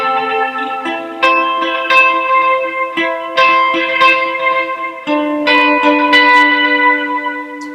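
Lead guitar intro of a song, played with effects and reverb: sustained, ringing, bell-like chiming notes changing pitch every second or so, closely miked and fairly loud, with no talking.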